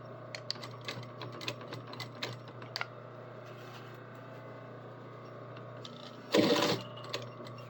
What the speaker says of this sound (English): pulled tight to a seam so that I can close it. I can top stitch it.